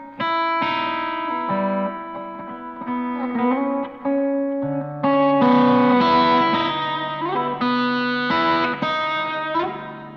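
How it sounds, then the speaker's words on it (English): Electric guitar played through a Strymon Volante set for light spring reverb, loud chords and sustained notes ringing with a soft splashy tail, strummed in several bursts separated by brief pauses, in a room with some natural reverb. "Right now we just have a little bit of spring reverb coming from the Strymon Volante"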